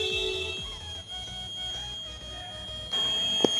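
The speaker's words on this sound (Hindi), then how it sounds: "अब सुनो आवाज़ सुन रही है बजर की।" A small buzzer on a homemade water overflow alarm gives off a thin, steady electronic tone. It is faint and continuous under a low room hum, with a brief knock near the end.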